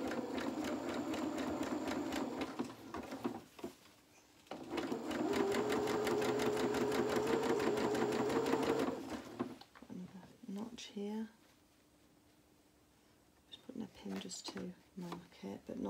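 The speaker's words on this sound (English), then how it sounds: "the actual stitching of the sewing machine" A sewing machine stitches fabric for doll-sized boxer shorts in two sustained whirring runs with rapid needle rattle, pausing between them, followed by someone talking in a quiet room.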